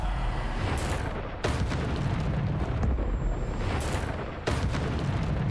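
Bombarda spell explosions in the Hogwarts Legacy video game go off as repeated booming bursts, several in about five seconds, each with a sharp onset and a rumbling tail over a loud, continuous blast-filled backdrop.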